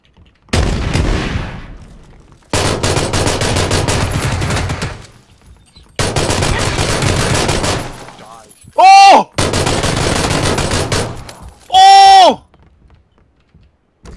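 Loud bursts of rapid gunfire in PlayerUnknown's Battlegrounds come in several long volleys separated by short pauses, with brief sweeping electronic tones between them.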